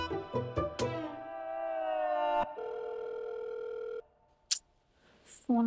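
Telephone ringing in a home, heard as a sustained electronic ring tone that sounds for a few seconds after a burst of sharp chiming tones, then cuts off into near silence.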